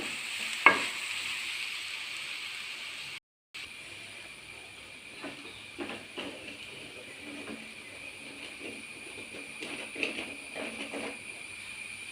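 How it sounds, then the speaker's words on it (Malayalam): Beetroot, semolina and sugar mixture being stirred in a pan for beetroot laddu, a soft continuous sizzle with scraping stirs, briefly cut by a short gap. "അപ്പം അതിനകത്ത് കിടന്നൊന്ന് പഞ്ചസാരയും മെൽറ്റായി റവയോടെയൊക്കെ മിക്സ് ആവട്ടെ."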